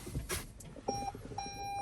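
A couple of short electronic beeps from a dash camera in a 2023 Toyota Highlander XLE Hybrid, thin and high-pitched, separated by a brief pause over a quiet background.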